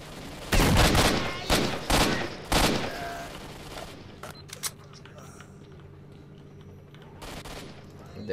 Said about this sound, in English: I hear more gunshots